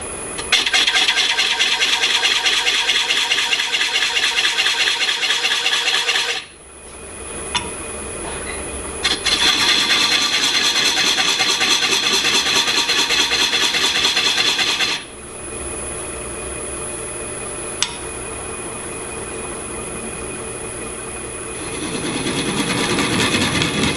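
A steady, loud whirring hum of a wood lathe spinning off center at 300 RPM with a rasping scrape over it, cutting out twice briefly before resuming.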